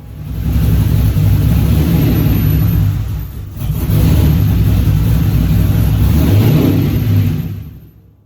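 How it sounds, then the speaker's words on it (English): V8-swapped MR2 with a locked transmission revving hard while put into gear, loud close engine drone in two sustained surges with a brief dip between, fading out at the end. "when I went to put it into gear and move it, this is what happened"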